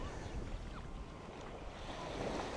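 Waves at Ao Manao Beach in Thailand, a soft washing surf mixed with wind buffeting the microphone, faint and continuous.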